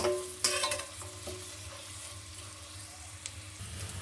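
Onions frying in a pan for a vegetarian red lentil dal with bottle gourd and potato give a soft, steady sizzle, with faint scrapes of stirring and a few light knocks, heard alone.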